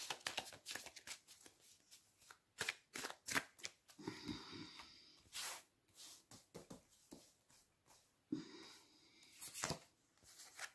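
Tarot cards are shuffled and drawn by hand close up, giving quick papery riffles and soft slaps in irregular bursts, fairly quiet with brief pauses between handlings.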